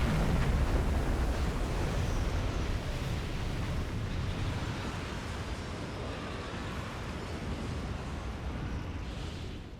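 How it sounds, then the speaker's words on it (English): A torpedo strikes a ship in a World War II submarine game, a loud, deep rolling rumble of explosion and churning water that slowly fades over about ten seconds. "Torpedo impact."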